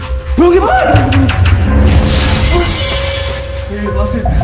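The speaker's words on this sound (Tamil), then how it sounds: "நீங்க பஸ் இந்த பக்கம் உங்க கண்ணாடி தான் நொறுங்குது." A bus window shatters with a sudden, bright crunch partway through, amid loud talking and background noise.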